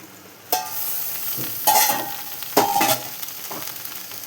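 Okra and potato frying in a pan, a steady hiss with several loud scraping stirs and metallic clinks of a spatula at irregular intervals, close and with no voices.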